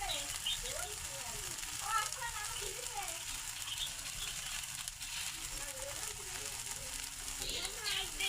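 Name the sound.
spice paste sizzling while being fried for shing fish bhuna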